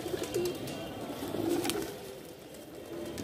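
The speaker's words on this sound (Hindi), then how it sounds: "आंध्रा साइड के कबूतर हैं जी।" Madrasi pigeons of the Andhra type coo softly in a low, repeated murmur, a steady close chorus of burbling calls with no voices.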